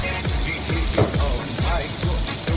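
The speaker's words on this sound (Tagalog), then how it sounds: "ready na natin ilagay ang ating karne para igisa" Meat added to onions sautéing in a pan for menudo gives a loud, continuous sizzle and crackle, with stirring scrapes running through it close by.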